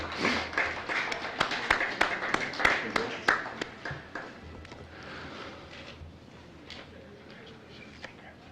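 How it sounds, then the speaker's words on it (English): Applause from an audience honoring sophomores at a high school honors and National Honor Society ceremony, a brisk burst of clapping that is loudest at first and then thins out to scattered claps. "Let's give a round of applause for our current sophomores."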